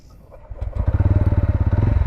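A TVS Ronin 225 motorcycle (2025 BS7 edition) fires up on its one-touch starter, with a brief crank giving way to a steady, pulsing near idle.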